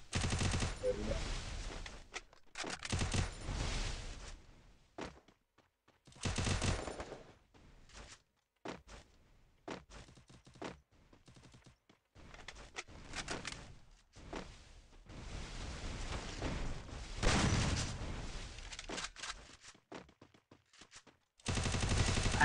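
Bursts of automatic gunfire from the Free Fire battle royale game, rapid machine-gun volleys alternating with short pauses and scattered single shots, loud and close throughout with no talk.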